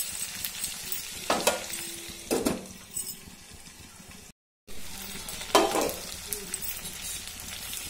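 A spoon stirs okra and mixed vegetables cooking in a pan for a buttermilk curry, with a few scraping strokes over a soft, steady sizzle, close and with no talk.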